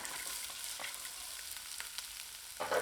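Boiled moong dal being stirred and sautéed in a pan with salt and a dried red chilli for sundal, a soft continuous sizzle marked by faint scraping strokes, ending in a slightly louder clatter.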